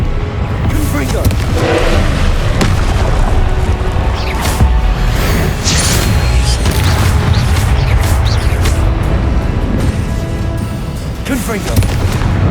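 Repeated Confringo fire-spell blasts in Hogwarts Legacy burst out as a series of loud, sharp booms spread across the stretch, mixed with combat clatter and a voice calling out at intervals.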